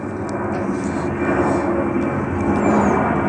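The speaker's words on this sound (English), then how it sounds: "Check on flight radar, just taking off from Dublin Airport." A large passenger jet takes off from Dublin Airport, its engines a loud, steady, close roar with broad rumbling and a high whine.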